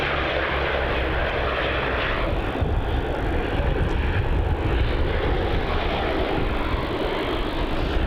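A jet airliner at Melbourne Airport produces a steady, broadband engine roar that holds at a constant level throughout, with no speech.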